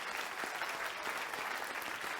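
A congregation at a Science of Mind spiritual service applauds, a faint, steady, distant wash of many hands clapping without pause.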